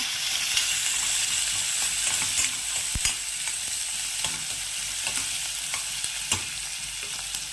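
Onions sizzle steadily in a pan for Khandeshi-style dal, a continuous hiss with occasional clicks and scrapes as they are stirred.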